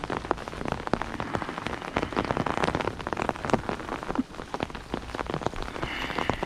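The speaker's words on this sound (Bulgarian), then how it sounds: "Заваля дъжд" Rain falls on a gazebo roof in a dense, steady patter of close, sharp drops that continues without pause. No one speaks.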